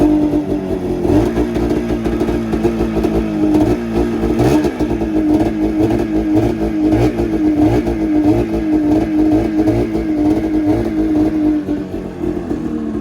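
A Mountain Cat snowmobile engine runs steadily at a low idle, a loud, close, continuous mechanical drone with a rapid clattering pulse throughout and no talking.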